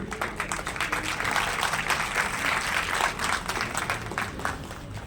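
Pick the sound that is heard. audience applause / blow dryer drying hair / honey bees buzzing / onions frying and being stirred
audience applause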